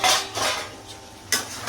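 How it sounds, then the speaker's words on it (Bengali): A metal pot lid lifted off a pan of fish-head curry with rohu head, small potatoes and peas, giving two or three close clinks and scrapes of metal in quick succession. "তাহলে এখন আমি ঢাকনাটা তুলছি।"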